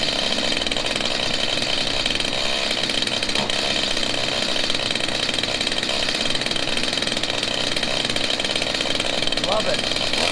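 A chainsaw runs steadily in a loud, continuous drone while being repaired beside a truck, with brief voices faintly underneath.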